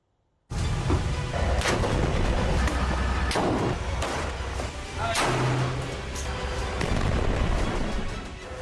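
A loud, sudden onset followed by a series of heavy booming blasts and sharp cracks, dense and continuous like nearby military explosions with gunfire, from Israeli army demolitions during the Israel–Hamas war.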